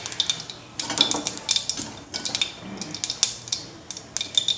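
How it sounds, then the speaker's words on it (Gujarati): Mustard seeds crackling and popping in hot oil in a kadai, sharp irregular pops and spits in quick clusters, close and moderately loud with no talking. "રાઈને ફૂટવા દઈએ"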